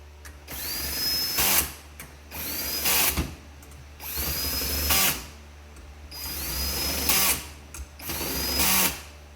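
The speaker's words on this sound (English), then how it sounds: "Always get you a drill that has a clutch on it" Power drill with a clutch driving bolts during a performance clutch build, sounding in five repeated bursts of whirring motor, each ending as the clutch slips and stops, fairly close with workshop hum underneath.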